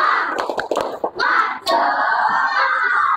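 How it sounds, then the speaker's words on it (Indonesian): A school class does a rhythmic spirit clap, a quick burst of sharp claps in a pattern at the start, followed by a loud, sustained group shout. "Tepuk semangat."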